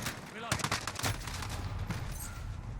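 AR-15 assault rifle fired in a modern warfare shooter game, rapid shots at the half-second and one-second marks followed by a steady busy din, with a voice speaking faintly underneath.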